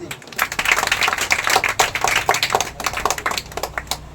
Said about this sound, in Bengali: মাদের জন্য একটু আমরা করতালি দিই